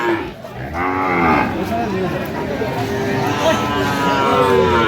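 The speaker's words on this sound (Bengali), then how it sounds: "আর গরুটি দেখছেন হচ্ছে বেলাল ভাই" Cattle, including Sahiwal bull calves, moo loudly and repeatedly over a busy outdoor crowd murmur at a cattle market in Kurigram, with several animals calling close by.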